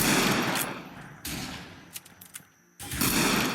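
Gunshots fire in a Wild West video game as lights are shot out, making loud, dense bursts of gunfire with a quieter gap in the middle where a few sharp single cracks stand out.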